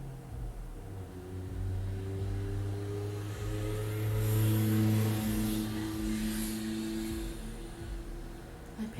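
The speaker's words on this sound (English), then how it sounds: "Cars are loud outside." Cars pass loudly outside a home, producing a steady engine rumble that swells to a peak near the middle and then eases off, heard with little or no talking.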